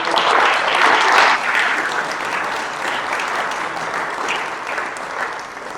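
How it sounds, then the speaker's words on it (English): An audience applauds healthcare workers for their pandemic work at a heritage week keynote event, a dense, steady burst of clapping that swells early then holds at a sustained level to the end. "Please join me in a round of applause for their work."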